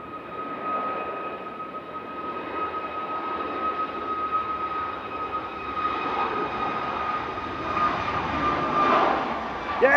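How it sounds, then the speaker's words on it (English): A Ryanair jet climbing out of Manchester toward Palma de Mallorca rumbles at a distance, a steady whine and roar slowly growing louder toward the end, with no speech over it. "Ryanair departing now to Palma de Mallorca,"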